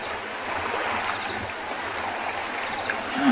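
Elephants splash and tussle in dam water, making a continuous watery churning and sloshing at moderate distance, with a louder splash surging at the end.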